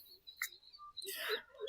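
Small birds in a village field after morning rain give a few faint, brief chirps and high tweets in quick succession against quiet surroundings.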